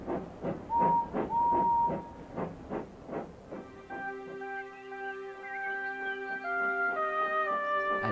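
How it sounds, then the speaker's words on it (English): A cartoon steam engine train chuffs in quick rhythmic puffs with a brief whistle, then the puffing gives way to sustained musical tones. "As Emily puffed to Maithwaite Station to collect the children"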